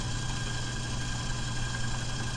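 A stand mixer paddles butter and sugar for spritz cookies, a quiet, steady motor hum with a low, even drone and no change in rhythm across the short span.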